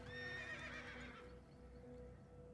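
A horse in a video game gives a clear, wavering whinny that rises and falls before fading, set over a soft steady background hum with faint hoof clops.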